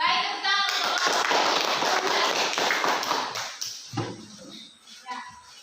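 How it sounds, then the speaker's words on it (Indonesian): A round of clapping from a classroom group, steady and fairly loud for several seconds, then tapering into scattered claps and a few thuds with voices nearby. "Baik, tepuk tangan untuk"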